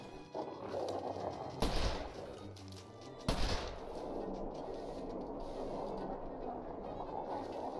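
Gunfire in The Long Dark: Wintermute, two loud sharp shots a couple of seconds apart over a steady windy outdoor ambience.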